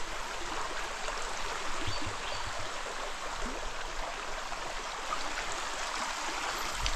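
A forest stream swollen by rain rushes steadily, a continuous close wash of flowing water with gentle gurgling and no voices.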